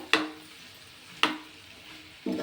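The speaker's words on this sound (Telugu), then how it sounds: "ఉప్పు కారం కలిసేలాగా కలుపుకొని" Curry of bottle gourd stirred in a pot to mix in salt and chili, three sharp spoon scrapes and knocks against the pan spaced about a second apart over a soft, low sizzle.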